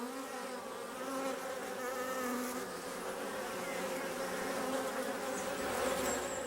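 Honeybee foragers buzz steadily inside the hive, a dense, continuous hum of many wings close by, with no voices.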